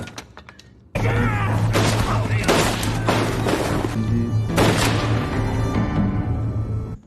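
A grenade attack and gunfire on a Japanese post in a war film: a sudden loud outburst of repeated blasts, bangs and crashes over a steady rumbling bed, fairly close, with no one talking.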